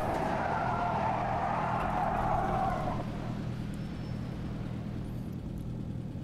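Tires skid and squeal loudly as a car in Automobilista 2 slides into lift-off oversteer, a broad hissing screech over engine rumble that cuts off sharply after three seconds, leaving a steady lower drone.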